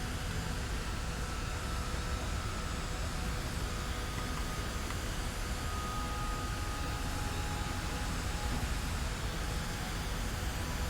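Steady, unbroken engine drone of an aircraft in flight in the Kerbal Space Program 2 game, a dense hiss-like roar holding at an even level throughout.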